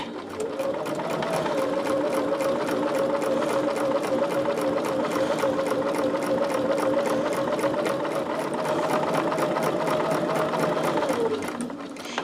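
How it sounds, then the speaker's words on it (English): Close sewing machine running a top stitch 1/8 inch from the edge of a fabric snappy bag, a steady rapid mechanical whir with fine regular needle ticks, sustained then stopping near the end; faint voice traces. "So now what we're going to do is a top stitch."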